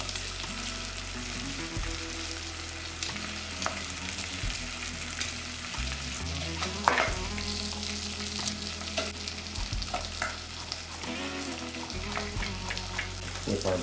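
Bacon frying in a pan gives a steady, close crackling sizzle that runs unbroken throughout, with a few brief clatters and a low background hum.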